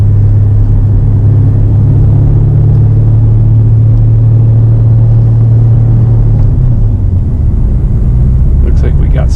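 Twin turbo Camaro engine rumbling loud and steady from inside the car during a test drive, its drone holding level and then shifting pitch near the end.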